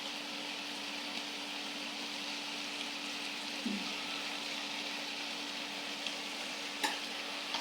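Chickpeas fry in oil in a wok on an electric stove, a soft continuous sizzle with a few faint stirring scrapes and a steady low hum underneath.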